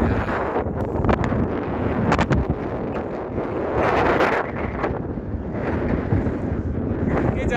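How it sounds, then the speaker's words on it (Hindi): Strong mountain wind roars continuously across an exposed high trail on the way to Rohtang, buffeting the microphone with loud, steady gusts and brief flutters throughout. "बहुत तेज हवा है भाई यहाँ पे"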